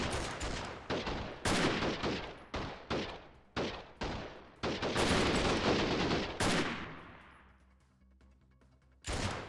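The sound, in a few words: gunshots in video game Freeman: Guerrilla Warfare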